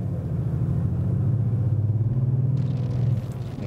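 A 2015 Maserati Quattroporte V6 diesel with a sound generator gives a deep, low pulsing roar under pressed throttle, steady and close before easing off at the end.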